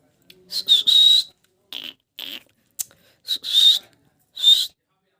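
A pet parrot gives bright, high whistling calls in several short bursts with gaps between them, close and fairly loud, with quieter breathy sounds in between.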